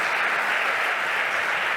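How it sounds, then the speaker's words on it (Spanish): Steady, dense applause from a conference audience thanking a speaker at a heating-industry event, continuous and fairly loud throughout. "un aplauso, por favor, para Jacobo"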